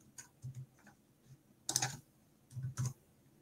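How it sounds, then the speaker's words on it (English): Keys on a computer keyboard clack quietly as answers are typed into a Polish-language study platform, a few sparse taps followed by a louder cluster of keystrokes. "I can try to type them in again."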